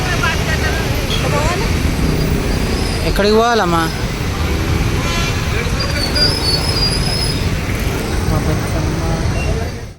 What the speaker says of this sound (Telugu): ఏం ట్రాఫిక్ ఉంది చూస్తుర్రు కదా మా నాయన మస్తు ట్రాఫిక్ ఉంది